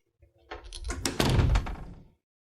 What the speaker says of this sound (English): You may close the door now.